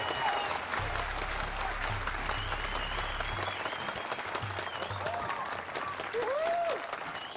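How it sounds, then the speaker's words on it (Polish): A studio audience breaks into loud, sustained applause for a guest on a Polish TV show, with clapping and cheers filling the whole stretch, while music plays underneath and a voice briefly rises over it. "Proszę o brawa dla Alberta Prado Monteiro."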